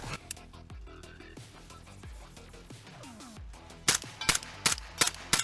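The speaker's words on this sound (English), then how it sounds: "This will be full mag dump." A 9-inch SIG MCX Virtus rifle fitted with a full-size SLH 7.62 suppressor emptying a full magazine, a run of muffled reports that grows into sharp, louder cracks near the end.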